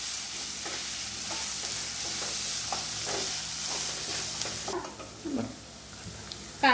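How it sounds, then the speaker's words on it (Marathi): Onion and curry leaves frying in oil toward golden brown, a continuous close sizzle with repeated stirring scrapes, easing near the end before a final clatter. "कढीपत्ता, कांदा, कांदा व्यवस्थित गोल्डन ब्राउन होऊ द्यायचा आहे"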